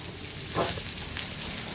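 Garlic hits a hot pan and fries, a soft steady sizzle with a brief burst of louder crackling as it goes in, no voices.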